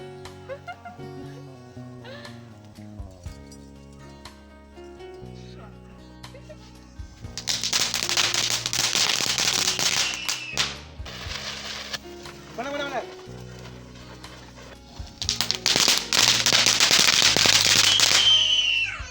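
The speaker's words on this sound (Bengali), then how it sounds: "রাত্রেও আমরা অনেক আনন্দ করেছি অনেক বাজি ফাটিয়েছি" Firecrackers burst at a Jagaddhatri puja celebration in two loud, dense bouts of rapid crackling, separated by quieter stretches of background sound.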